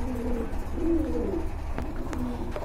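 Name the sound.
pigeons cooing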